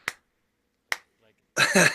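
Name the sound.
hand clapping to trigger a clap-on light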